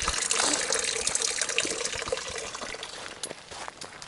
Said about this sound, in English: This is how we fill up our water along the way